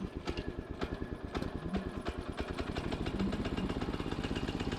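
A Little Wonder brush mower's small engine runs after a pull start, thumping in a steady, fast rhythm near the listener at a moderate level, with no talk.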